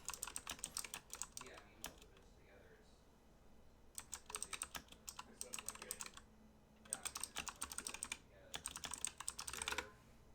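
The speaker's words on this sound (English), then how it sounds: "Loud typing." Loud, rapid typing on a computer keyboard during a Skyrim play session, coming in clattering bursts separated by short pauses, close and prominent, with no voices.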